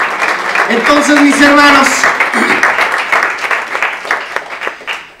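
Church congregation applauding during a Spanish-language sermon at a Ministerio Unidos en Fe service, steady crowd clapping throughout under a preacher's speech.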